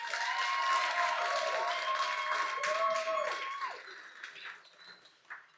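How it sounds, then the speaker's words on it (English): Wedding guests applaud the couple at a reception, a dense patter of clapping that fades out after a few seconds, with faint chirpy whistles and murmurs over it. "Can we start with a round of applause for this beautiful couple that we have here?"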